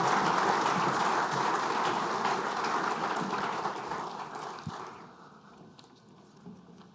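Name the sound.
audience round of applause at conference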